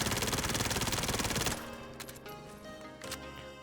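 A MAC-10 submachine gun in Warzone fires a fast, unbroken full-auto burst for about a second and a half. The shots then cut off, leaving faint clicks and a quieter mechanical rattle.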